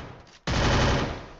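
Gunfire in the video game Free Fire, a short quiet lead-in followed by a loud burst of rapid shots that tails off after about a second.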